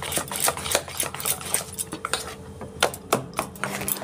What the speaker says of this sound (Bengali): এবার এটা দিয়ে আমি ডালটাকে ভালো করে একটু ফেটিয়ে নেব।